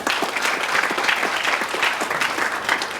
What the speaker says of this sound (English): Please give yourself a round of loud applause.